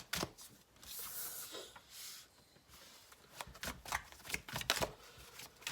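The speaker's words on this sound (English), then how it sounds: "I do see the cards that are flipping over in the deck" A deck of tarot cards shuffled by hand, crisp riffling bursts and flicks coming in quick irregular clusters, close and clear with no voices.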